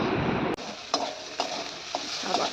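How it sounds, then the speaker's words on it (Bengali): Onion frying with ginger, garlic and chili paste sizzles in a pan, a steady hiss broken by several stirring scrapes and taps, close and fairly loud. "পেঁয়াজটা একটু ভালোভাবে ভেজে নেবো আর এদিকে দেখো মা মশলাটা দিয়ে দিল আদা রসুন আর সাথে লঙ্কা বাটা"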